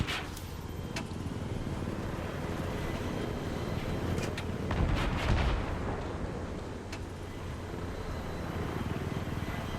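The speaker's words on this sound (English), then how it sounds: "He jumps down and I start shooting at him." Gunfire in the video game Battlefield 3 on the Wake Island map: several sharp shots crack over a constant rotor-and-engine roar from an attack helicopter, with a denser cluster of blasts near the middle.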